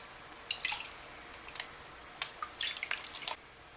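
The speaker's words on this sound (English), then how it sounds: "Go ahead and pour off that gray water." Gray water is poured off a gold pan while panning flour gold from Yooperlite paydirt, giving scattered close drips, splashes and wet squishing sounds in uneven bursts with quiet gaps between.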